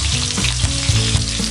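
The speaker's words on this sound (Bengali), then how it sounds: "এভাবে আমাদের দেখানো পদ্ধতিতে আপনারা গোটা মুড়োটা ঠিক মতো ভেজে নিন।" A whole catla fish head fries in hot oil, crackling and sizzling loudly and continuously at close range with small bubbling pops.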